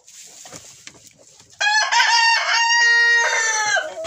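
A Pushkin breed rooster crows loudly and close by in one long, drawn-out call, preceded by softer clucking from the hens in a farmyard flock.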